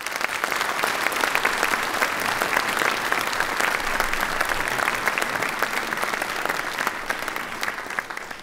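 Audience at a local New Year's civic address applauds association volunteers, a dense, steady round of clapping sustained loudly throughout with no voices over it.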